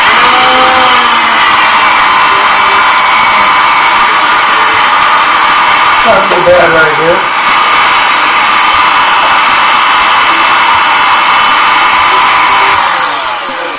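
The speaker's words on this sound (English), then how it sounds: "I'm going to get the vacuum" A vacuum cleaner drones loudly and continuously with a steady high-pitched whine, while someone speaks briefly over it.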